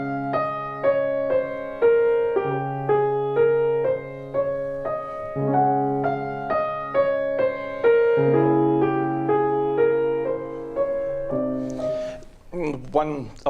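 A solo piano plays a calm, slow melody from Schumann's Fantasiestücke over gentle bass notes, clear and close. A brief voice comes in at the very end.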